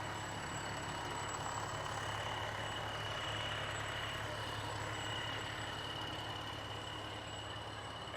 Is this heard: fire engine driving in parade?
yes